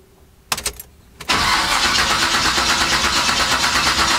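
A cammed Chevy C10 truck engine cranks in two short bursts of starter whir, then catches and settles into a loud, loping idle with a pulsing rhythm, close by and alone.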